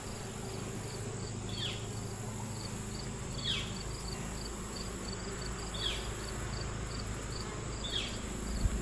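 A steady, dense hum of honey bees fills the air around an open hive during an inspection, with a few brief high whistles rising over the continuous buzz.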